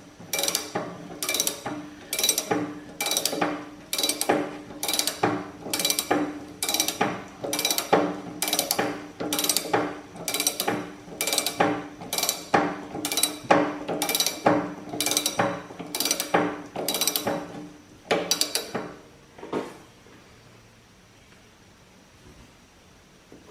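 A ratchet wrench cranks a nut tight on a Kubota hydraulic cylinder during a rebuild, about twenty quick steady clicking strokes close by that stop near the end, leaving a quiet tail.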